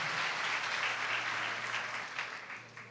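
A church congregation claps steadily in a broad, dense wash of applause that gradually fades toward the end, with no talk over it.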